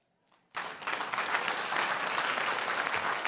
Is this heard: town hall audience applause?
yes